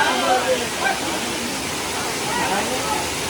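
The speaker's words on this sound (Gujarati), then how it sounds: "તો મિત્રો આ છે મેન ધોધ જટાશંકરનો. તમે જોઈ શકો છો પાણી અત્યારે ફૂલ છે" Jatashankar waterfall near Girnar, Junagadh, in full flow, giving a steady, close rushing roar of falling water throughout, with faint voices blended in.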